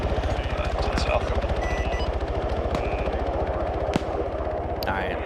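Rapid automatic gunfire in the Arma 3 military shooter, a steady fast stream of shots with a few louder single cracks standing out, sustained over the whole stretch with a voice talking over it.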